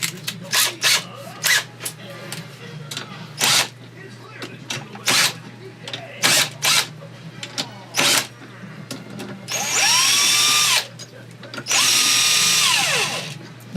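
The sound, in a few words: power drill driving a socket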